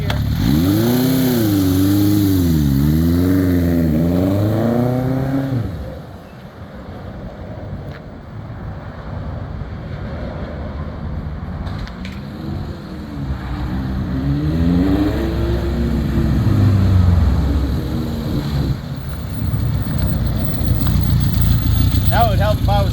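A Honda CB750 motorcycle engine clicks into gear and pulls away, revving up with rising pitch, easing off, then building again as it rides off, loud and close throughout with a steady engine drone.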